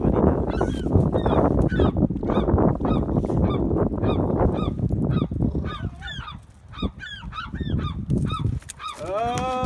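A goose honks loudly and repeatedly while it is being caught by bird fishing in Berkeley, California. The harsh calls come in rapid, overlapping bursts, close by, with some commotion beneath them.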